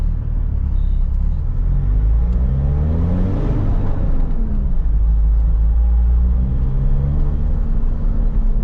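A Mitsubishi Montero diesel engine held at the clutch biting point during a manual uphill start, a loud steady low rumble with a gently rising and falling drone, no talking.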